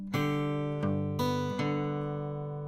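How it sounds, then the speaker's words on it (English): Fingerstyle blues guitar exercise with plucked treble notes over steady bass notes, played alone in a few clear ringing attacks that sustain and slowly decay. "Exercise 7 is going to sound like this,"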